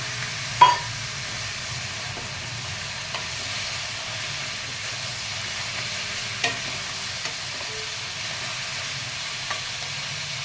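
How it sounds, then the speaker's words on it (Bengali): Cut potatoes frying in a pan, a soft, steady sizzle close by, with a few sharp clinks of a utensil against the pan. "এর মধ্যে কটা আলু কেটে রেখেছি দিয়ে দিলাম।"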